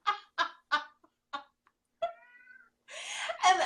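A domestic cat vocalizes indoors, giving a run of short clucking chirps followed by a drawn-out meow and louder rough calls at the end.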